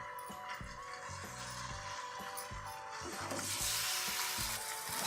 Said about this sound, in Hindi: हम इसे फ्राई कर लेंगे